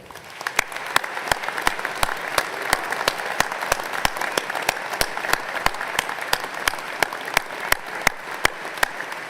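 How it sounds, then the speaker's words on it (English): Sustained applause for veterans from a large crowd at a college commencement ceremony fills the space, steady and even throughout, with a few sharper claps standing out near the front. "Please join me again in giving our veterans a round of applause."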